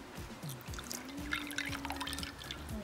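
Water poured into a glass for lemonade, a soft, close, steady trickle and splash with gurgling as the glass fills, fairly quiet.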